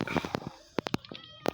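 A cat in the video game Minecraft gives several short, clear meows in quick succession, with a last meow after a brief pause, against a quiet game background.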